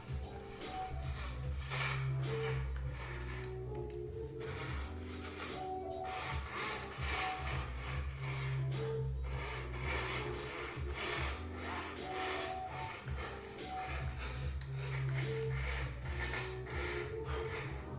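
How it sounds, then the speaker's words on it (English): A fine fretsaw blade rasps steadily through thin marquetry veneer, its rapid back-and-forth strokes close and continuous over a low machine hum, with brief pauses as the cut is turned. "So I cut blind, bring the blade out, turn it around, the back of the blade enters the cut."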